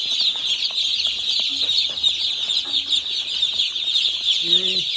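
Young broiler chicks on a farm give continuous high, shrill peeping that overlaps into a dense chorus, with a few lower clucks and brief calls scattered through it.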